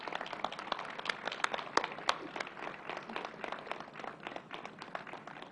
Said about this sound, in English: let's give them another round of applause and welcome Donnalepardo